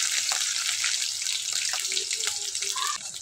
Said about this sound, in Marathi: 1-2 मिनटं चांगलं तळून घेऊ शेंगदाणे.